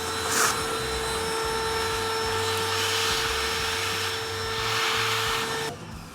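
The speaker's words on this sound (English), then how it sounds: "I like to use a vacuum as well." A vacuum cleaner runs close up while it cleans out a Mythos coffee grinder, giving a loud, steady whine and roar that shifts slightly in pitch and then cuts off near the end.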